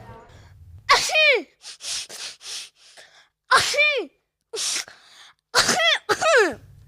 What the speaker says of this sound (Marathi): नेहमीच्या शिंका चालूच का तुझ्या